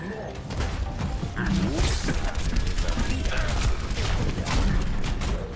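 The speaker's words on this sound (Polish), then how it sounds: "Kurde no, trafiłem go heliksem." Rocket blasts from a helix launcher in Overwatch on the Horizon map in low-gravity mode, a dense run of repeated gunfire-like bursts and mechanical clatter sustained over several seconds under game noise.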